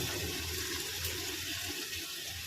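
Boiled lentils pour into a pan of fried spices for tarka with a soft, steady liquid rush and splash that stays close and continuous throughout.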